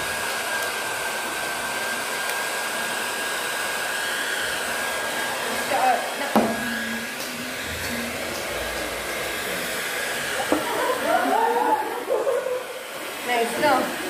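A hair dryer blows steadily, a constant loud whoosh with a few brief bumps and shifts in airflow.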